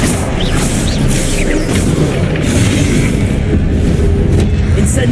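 Confringo blasting spell explosions in Hogwarts Legacy, a loud continuous run of booming blasts and bursts mixed with other spell effects in dense combat.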